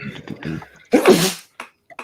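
A single sharp, loud sneeze bursts out close by after brief murmured talk, followed by quiet breaths and small sounds.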